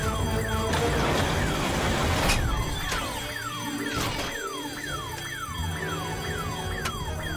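A car alarm blares close by, its rapidly repeating descending electronic chirps cycling without pause, joined by a few sharp higher whoops, loud and persistent over a low background rumble.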